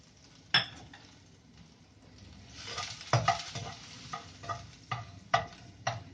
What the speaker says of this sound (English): So we are all going to put all the chopped garlics in this